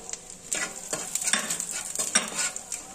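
Panch phoron and a dried red chili sizzle in oil left from frying shrimp, a close crackling hiss broken by a few scraping stirs of a spoon, no talk.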